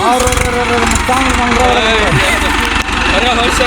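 A tractor engine running steadily at a low idle, a loud continuous mechanical drone close by with people talking over it.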